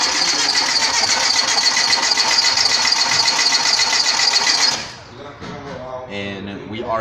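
An engine cranks in a fast, steady ratcheting rhythm during a dry compression test on a no-start motor, loud and close for about five seconds before stopping, then someone talks.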